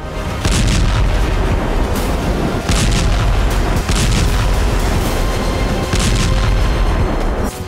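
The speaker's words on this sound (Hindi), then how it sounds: "धमाकों की आवाज थम नहीं रही" Explosions from fighting in the Russia-Ukraine war, a series of loud booming blasts and heavy rumbling bursts repeating every second or so over continuous low roar, no speech.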